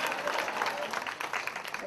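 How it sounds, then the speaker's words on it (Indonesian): A church congregation claps loudly and steadily, a dense, continuous wall of applause with no pauses. "Tepuk tangan yang lebih dahsyat."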